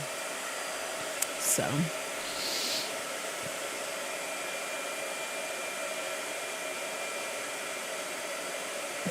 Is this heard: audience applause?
no